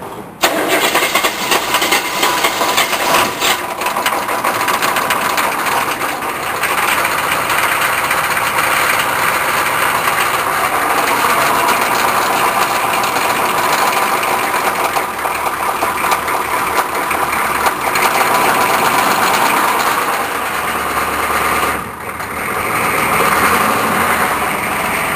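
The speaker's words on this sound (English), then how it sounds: "Glow plugs on. Time to crank." A diesel engine cranks over after its glow plugs have warmed and settles into a steady idle, loud and close throughout with no fast idle, its rough drone running alone for the whole stretch.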